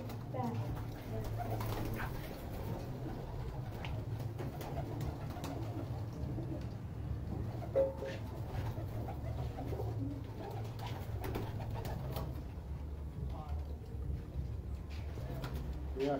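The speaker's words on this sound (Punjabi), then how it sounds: "ਇਹ ਪੁਰਾਣੇ ਕਬੂਤਰ ਹੈ, ਨਾਯਾਬ ਕਬੂਤਰ" Old, rare teddy pigeons cooing in a loft, soft repeated low coos running steadily throughout, with people talking quietly alongside.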